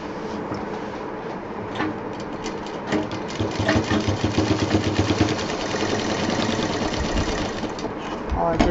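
Sewing machine stitching a fabric fruit cover, a steady whirring run with rapid rhythmic needle ticks throughout, brief louder bursts in the middle, and talk over the top.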